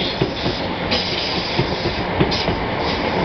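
A London Overground class 317 or 315 electric train rumbles past close by, loud and continuous, with a rhythmic clickety-clack of wheels over rail joints.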